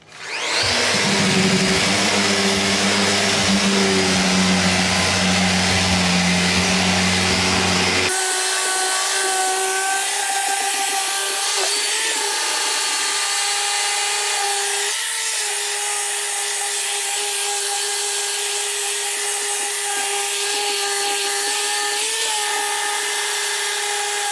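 Festool RO-90 DX multi-mode sander working an oak cabinet surface, a loud steady motor whine and abrasive hiss that shifts tone partway through and then runs continuously close by.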